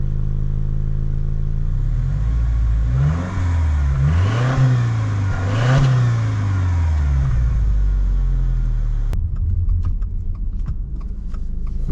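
A 2022 Subaru WRX Wagon under way, with a continuous low engine drone that rises and falls through several revs over road noise, fairly subdued, followed by a quieter stretch of light clicks near the end.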